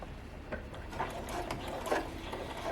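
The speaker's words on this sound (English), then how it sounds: "Back stitch when you get to the bottom of the side and go across the bottom." A sewing machine backstitching a handbag liner gives a low, steady mechanical whirr with faint rhythmic ticking. It is quiet and close, runs for a few seconds and has no talking over it.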